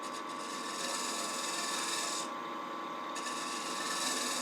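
A freshly burred shear scraper scrapes a hollowed geometric wood piece turning on a lathe, making a continuous, close, raspy scraping hiss with a brief dip in brightness midway.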